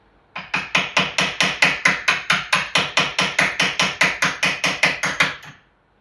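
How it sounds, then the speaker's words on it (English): Steady, evenly spaced hammer blows drive a soft punch against a Yamaha TZR 250 3XV motorcycle rear shock part during a teardown, about twenty sharp metallic strikes close up over five seconds, with no talking. "Or we can try with the soft punch"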